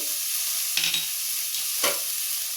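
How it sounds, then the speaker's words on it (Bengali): Turmeric and chili powder stirred into vegetables in a cooking pan, soft scraping stirs twice over a constant sizzling fry. "আমি হলুদ গুঁড়ো আর লঙ্কা গুঁড়ো দিয়ে এটা মিশিয়ে নিলাম"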